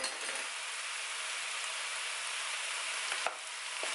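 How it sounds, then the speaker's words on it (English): Worcester sauce and tomato puree being stirred into a hot pan produce a soft, even sizzling hiss, with a single metallic clink near the end. "Give that a really good mix."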